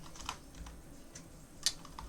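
Fingers typing on a computer keyboard, quiet, irregular clicking of separate keystrokes, with one sharper louder key press near the end.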